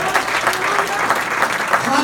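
Church congregation applauding the Lord during a service, a rhythmic wash of clapping hands under overlapping voices and shouts.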